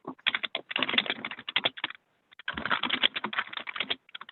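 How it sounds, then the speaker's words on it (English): Rapid clattering keystrokes on a computer keyboard picked up through an open microphone during an online commission meeting, dense bursts of clicks with a brief pause midway, close and clear with no voices. "Pam, when you're typing, can you go on mute? Sure. I don't know about everybody else, but I'm hearing a lot of the clatter"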